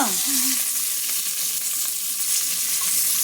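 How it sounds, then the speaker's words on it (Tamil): Semiya (vermicelli) sputters and sizzles steadily in a hot pan on the stove, with water on it making a dense, continuous crackle that runs close and loud for the whole stretch. "தண்ணி இருக்கனால தெரிக்குது, அவ்வளோதான்."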